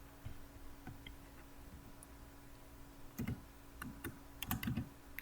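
A computer keyboard clicks in short, irregular bursts of typing at close range against a low steady hum, with no voices.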